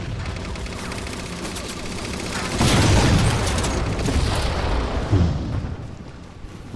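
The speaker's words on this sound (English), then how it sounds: "Some explosion happened right next to me." Gunfire and an explosion in the video game Halo 4: a steady run of gunshots, then a loud blast that lingers as rumbling debris, with another sharp shot after it.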